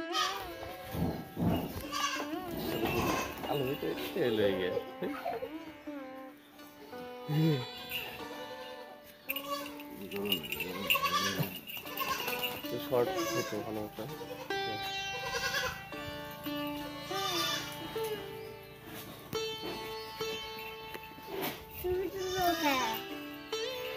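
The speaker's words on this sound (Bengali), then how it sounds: "এটা কি জাত? রাম ছাগল।" Ram goats on a small rural farm bleat repeatedly, some cries high and wavering like a child's wail, close by, with people talking intermittently among the animals.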